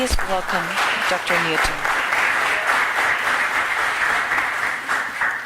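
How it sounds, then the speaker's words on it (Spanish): An audience at an educational leadership symposium in Costa Rica applauds a speaker, steady full clapping from a large room after a voice briefly finishes speaking at the start. "Un aplauso para el doctor Newton."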